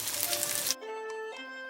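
Pieces of wheat gluten (kaofu) frying in oil in a pan, a dense, loud sizzle that cuts off abruptly partway through, leaving quieter tonal kitchen noise.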